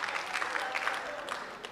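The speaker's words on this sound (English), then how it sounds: "So, come on, clap for women." A short burst of steady applause from a crowd, dense clapping throughout.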